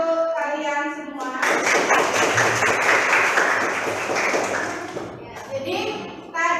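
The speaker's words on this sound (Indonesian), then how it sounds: "Tepuk tangan untuk kalian semua" Students applaud during a classroom lesson, a burst of clapping that swells for several seconds under the teacher's voice, with children's voices around it before it fades.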